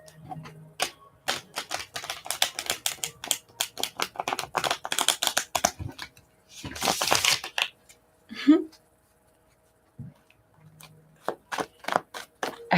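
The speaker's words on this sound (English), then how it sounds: "I feel like I'm a clumsy shuffler, so I like to have my cards shuffled before I ever come on the videos" Playing cards are shuffled and bridged up close, a rapid run of crisp riffling clicks followed by a whooshing cascade and a few separate taps, with brief quiet talk in between.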